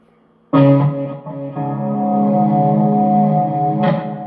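Electric guitar played through a distortion effect, sounding a loud sustained chord with a second note struck near the end, ringing alone with a buzzing, thick tone.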